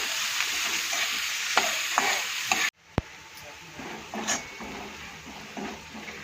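Chopped onions sizzle in oil in a pan while a spoon stirs them, with scraping taps and occasional clinks of utensil on metal over a steady crackle that drops briefly mid-way before resuming.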